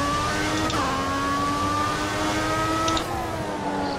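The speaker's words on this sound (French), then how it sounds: "je vous laisse apprécier le bruit du moteur" A Formula 1 car engine at Abu Dhabi in the video game F1 2014, a steady high-pitched whine held near full throttle with brief shifts in pitch, loud and continuous without talk.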